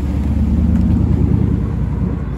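A Porsche Cayman sports car on a Paris street gives a loud, steady low engine rumble that holds for a couple of seconds without a clear rise or fade. No one speaks.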